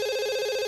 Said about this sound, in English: Thought the phone stopped ringing there.